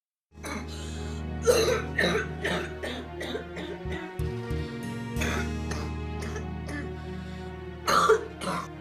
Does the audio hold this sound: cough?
yes